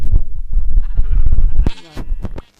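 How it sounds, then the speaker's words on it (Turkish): Sheep bleating in the Minecraft video game, a short wavering cry near the end following a stretch of low thumping game noise. "E, koyun var. Koyunu öldüreceğim."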